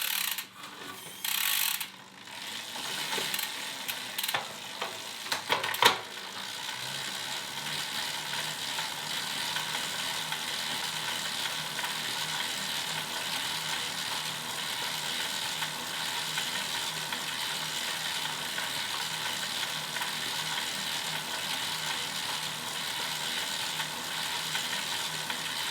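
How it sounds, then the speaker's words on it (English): A STAC Zero Halcyon smart bike trainer with nothing touching the bike, running as a steady, quiet mechanical whir and ticking freewheel. A few sharp clicks come early, then the sound settles into an even, faint hum. "let's listen to the sound of this trainer."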